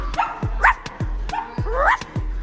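A small dog barks and yips in short, sharp bursts, about four close, loud barks with whiny, rising tones mixed in.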